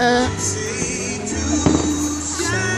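Fireworks burst through a 2014 display, with a sharp crack near the middle over a steady rumbling wash of explosions and background music.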